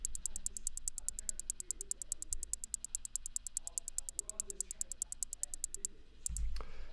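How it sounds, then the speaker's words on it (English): Programmed hi-hat in an FL Studio trap-style beat, panned to one side: a fast, even stream of crisp ticks at low level, running steadily for about six seconds before stopping. "I panned the other hi-hat the other way."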